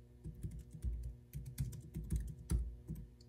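Rapid clicking of keys on a Jelly Comb foldable Bluetooth keyboard, irregular bursts of close, fairly soft typing with brief pauses, no voices.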